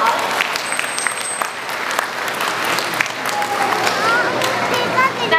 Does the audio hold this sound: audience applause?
yes